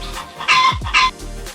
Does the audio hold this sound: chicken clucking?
yes